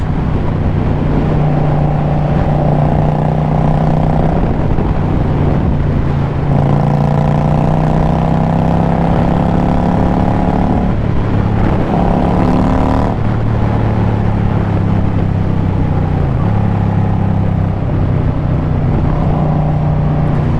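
A bobber motorcycle engine drones loudly while riding, with rising revs through the gears and brief dips at each shift, close and continuous over wind noise.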